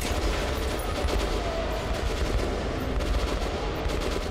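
Dense, continuous gunfire in the video game Metro Last Light, rapid overlapping shots and bursts forming a loud unbroken barrage.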